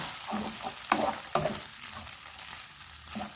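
Clams stir-fried in a wok with large, home-grown basil leaves and oyster sauce, giving a steady close sizzle and frying crackle with a few sharp scrape-like clatters of stirring.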